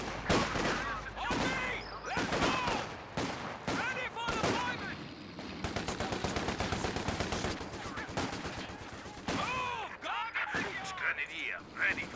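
Gunfire in a Company of Heroes 2 battle, with bursts of machine-gun fire, single shots and heavy impacts layered densely over one another. In-game soldiers shout orders at the same time.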